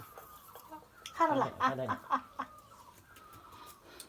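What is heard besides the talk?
chicken clucking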